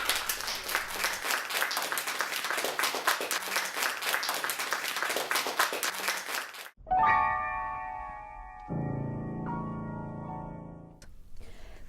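Audience applause fills the first half as a dense, steady wash of many hands, then breaks off abruptly into ringing, bell-like tones that sustain and fade.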